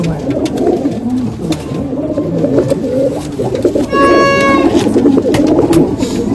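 Malwai pigeons in a loft cooing in overlapping, throaty low rolls that run continuously and close by, joined by a brief higher chirping call midway.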